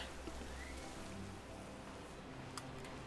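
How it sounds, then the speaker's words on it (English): Rain in the Pokemon Violet video game falls as a soft, steady hiss, faint and constant throughout with a few scattered drop ticks. "Bruh, this rain."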